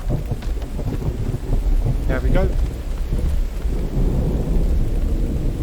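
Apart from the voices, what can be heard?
rain and thunder in video game The Infected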